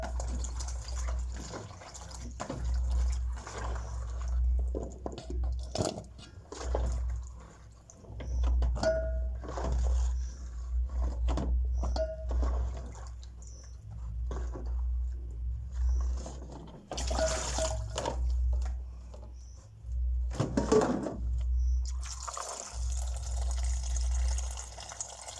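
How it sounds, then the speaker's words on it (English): Items being washed in water outdoors on a nature tour, with soft splashing, sloshing and dripping over a steady low background rumble, no talking. "I'm going to wash them twice."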